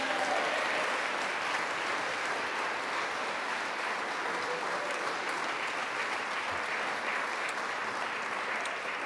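Steady, sustained applause fills a room as an audience claps for award winners at a city arts awards ceremony, a dense, even wash of many hands with no voices standing out.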